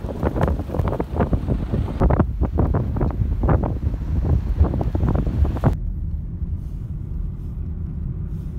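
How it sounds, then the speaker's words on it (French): Strong wind in a snowstorm in Kittilä, Lapland, buffeting the microphone with loud, gusty rumbling roar that eases into a steadier low rush near the end. "Il y a du vent et il y a de la neige."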